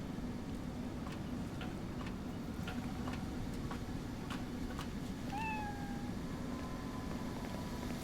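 A cat lets out a short meow partway through, faint beneath a steady bed of game music and ticking clicks.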